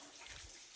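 Water drips and trickles onto a Shiva idol inside a temple, a faint, soft, steady splashing with no voices.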